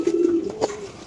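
A pigeon at a pigeon farm gives a close, low, rolling coo that swells and fades, with a second softer coo following shortly after, no talk over it.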